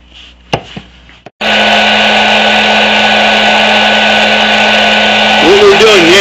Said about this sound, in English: we're warming the socket with the heat gun that I have in the vice grip